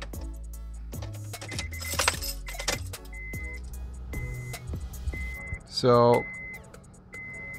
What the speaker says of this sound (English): I'm gonna turn on the car.